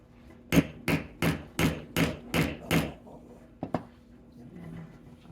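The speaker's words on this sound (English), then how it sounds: "I think you have to use a hammer with this" Seven evenly spaced hammer blows on a cowgirl hat ring out in a steady rhythm, followed by two quicker, lighter taps, close and loud.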